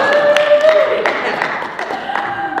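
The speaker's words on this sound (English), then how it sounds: "round of applause" Steady applause from a crowd, continuous clapping throughout with no break.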